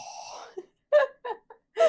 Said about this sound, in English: I'm breathing like really heavy